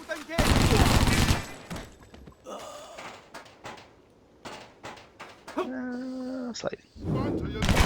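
Gunfire bursts from the video game Stranglehold, loud dense shots at the start and again at the end, with a quieter stretch of game effects and someone talking in between.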